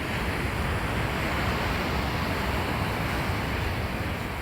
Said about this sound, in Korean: 파도 장난 아니죠.